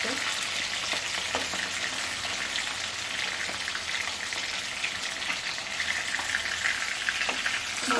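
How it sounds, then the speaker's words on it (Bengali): Steady, dense sizzling of tilapia fish frying in hot oil, a continuous crackle that holds the whole time with faint pops scattered through it. "ভাজা হয়ে যাচ্ছে"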